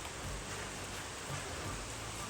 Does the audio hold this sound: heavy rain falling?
yes